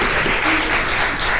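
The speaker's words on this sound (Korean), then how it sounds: "박수 부탁드리겠습니다" An audience at a Seoul city bus service policy forum applauds in a dense, steady burst of clapping that fills the brief moment.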